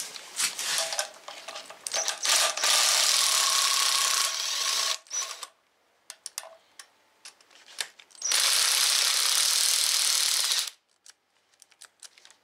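Impact wrench on the cylinder head of a 2006 Hummer H3 3.5 five-cylinder, loosening head bolts in a garage: two long, loud rattling bursts separated by a pause, with shorter clicking bursts at the start, no talk.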